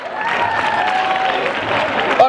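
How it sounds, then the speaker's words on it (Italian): A crowd at a public commemoration event in Palermo claps steadily, dense applause at a constant level with a few cheers and voices mixed in and a raised voice near the end. "Un applauso, forza!"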